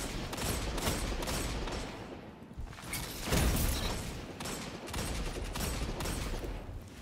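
Rapid bursts of gunfire from a competitive shooter game crackle in dense, repeated volleys, loud and continuous with brief lulls between strings of shots.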